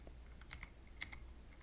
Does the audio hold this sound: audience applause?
no